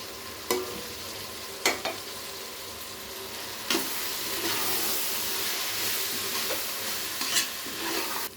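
Ground coriander, turmeric, garam masala and pepper sizzle and fry in a pan. A steady hiss is broken by several sharp stirring scrapes against the metal, close up, and no voices are heard.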